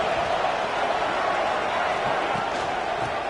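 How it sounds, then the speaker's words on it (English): Crowd noise fills a football stadium in a video game, a constant, even roar of cheering voices with no breaks across the short stretch. "Listen to the crowd energy here in the early going."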